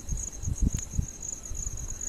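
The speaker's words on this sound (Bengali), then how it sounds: "সেখান থেকে অজস্র পোকার ঝিঝি ডাক শোনা যাচ্ছে।" Crickets chirp with a steady high, continuous trill beside a forest at night near a lit resort lawn in Purulia, with low soft rustling and thuds underneath.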